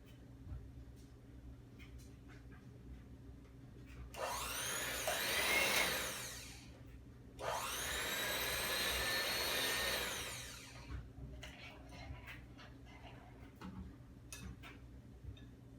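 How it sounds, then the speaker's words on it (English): An electric hand mixer whipping homemade herbal body butter in a bowl set in an ice bath, whirring loudly in two bursts of a few seconds each, with quiet clicks and handling sounds before, between and after. "So I whipped the body butter for about 3 minutes or so."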